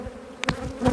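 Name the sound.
stinging insects swarming on gloves, likely bees or wasps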